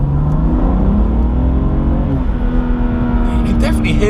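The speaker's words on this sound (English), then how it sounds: "You can definitely hear more engine sound as well." A BMW M2 Competition fitted with an Eventuri intake accelerates in second gear from inside the cabin, engine note rising steadily in pitch, loud and continuous.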